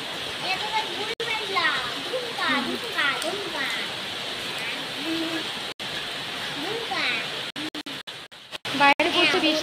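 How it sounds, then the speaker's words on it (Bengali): Steady rain falls outside, a continuous broadband patter that runs throughout with voices talking over it. "বাইরে পড়ছে বৃষ্টি"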